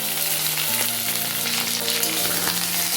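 Potatoes, onions and chopped tomato fry in a pan with a loud, dense, unbroken sizzle up close, behind a faint steady hum.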